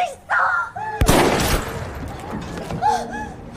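A single sharp gunshot cracks out in a dramatic film scene, a loud broadband burst followed by a lingering noisy tail, with brief voices and a gasp around it.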